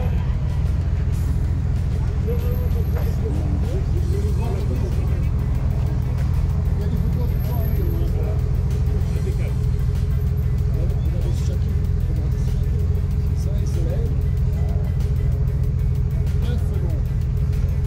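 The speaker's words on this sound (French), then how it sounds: "Porsche Almeras" Porsche rally car at the Rallye Auriol Classic, a loud steady engine roar with low rumble passing by outdoors, while spectators' voices chatter over it throughout.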